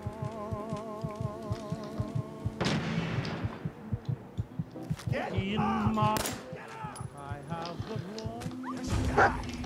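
A dog barks in Fallout 4 amid a fight, sharp repeated barks and yips mixed with gunfire bursts, game music and shouting voices.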